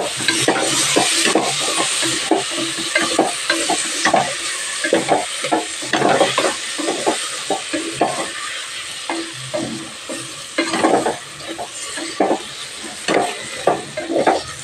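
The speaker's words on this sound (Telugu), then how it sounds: "నేను ఇప్పుడే టమాటా ముక్కలు కూడా వేసుకున్నాను ఇప్పుడు దీంట్లో" Tomato pieces and bitter gourd fry in a pan, with a steady loud sizzle and repeated close scraping and stirring strokes throughout.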